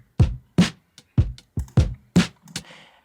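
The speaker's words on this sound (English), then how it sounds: "So now let's move on to our drum loop that sounds like this." A drum loop, played back dry before any granular glitching is applied, with sharp hits repeating at a steady beat about every half to two-thirds of a second, moderately loud with no talking.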